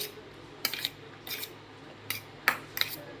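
A utensil clinks against a bowl in scattered sharp taps while eggs are beaten with salt for a bread omelette, quiet and close with short gaps between strikes.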